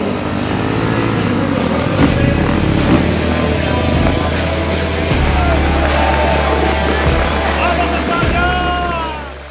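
A KTM enduro motorcycle engine buzzes and revs loud and close at the start of a six-day enduro event, its pitch rising and falling as other bikes rev nearby and voices talk underneath.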